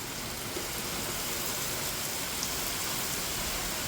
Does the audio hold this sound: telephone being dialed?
no